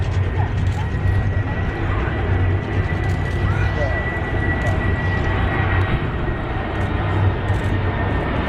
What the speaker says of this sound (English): This Boeing 747 flying low over the Golden Gate Bridge in San Francisco.